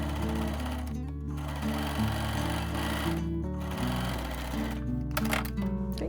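Domestic sewing machine stitching a 1 cm seam on a knitted sweater, a steady fast mechanical whir and needle clatter running continuously up close, with brief pauses in pitch.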